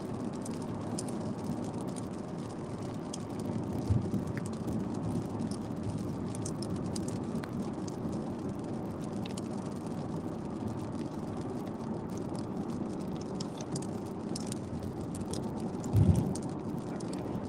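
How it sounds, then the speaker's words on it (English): Steady rain falls outdoors as a continuous broadband hiss, with a couple of soft low thumps, one near the end slightly louder. "we got a little bit of rain"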